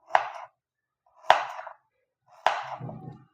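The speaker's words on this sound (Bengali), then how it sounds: "গাজরটাকে আমি কেটে নেব, প্রথমে এভাবে লম্বা করে প্রথমে কেটে নেব" A knife strikes a cutting board three times while dicing a carrot into small cubes, each chop a sharp, close knock followed by a short scrape, spaced about a second apart.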